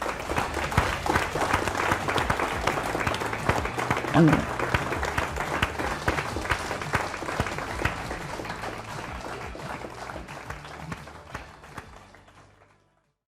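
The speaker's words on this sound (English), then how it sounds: "Huge round of applause for Nigel." Dense audience applause fills a large room for several seconds, with sustained clapping at a steady level and a few voices mixed in, then tapering off and fading out near the end.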